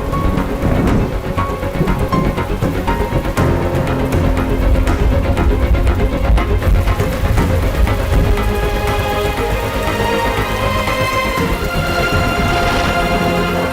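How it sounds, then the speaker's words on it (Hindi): Steady heavy rain pours outside with continuous hiss and patter, broken by low rumbling thunder, loud and unbroken throughout with no voices. "बाहर बारिश भी हो रही है।"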